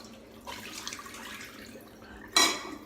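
A shaving brush is rinsed under running water at a sink: a soft trickle with faint clinks, then a brief louder splash near the end, close and quiet, with no voices.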